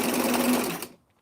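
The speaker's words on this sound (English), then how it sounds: "Sometimes I sew over pins." A sewing machine stitches a T-shirt seam in a rapid, steady whirring burst lasting under a second, close and clear, then stops into silence.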